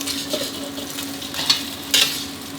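Thai omelet of beaten egg frying in a pan, a steady close sizzle with a couple of brief scraping clatters from the utensil.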